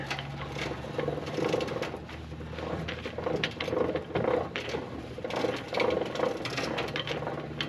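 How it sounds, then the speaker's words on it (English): A farm grain auger and hopper being lowered give off a steady mechanical clatter with ratcheting, gear-like ticking at a fairly close, even level, with no voices. "now we got to let the auger down"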